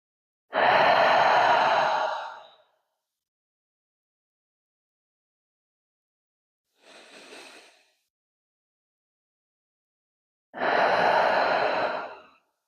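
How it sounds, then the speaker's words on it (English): Deep breaths are let out through the mouth during a yoga session: two long, loud sighing exhales near the mic, with a softer, brief breath between them and silence around. "Maybe letting that breath loose through the mouth."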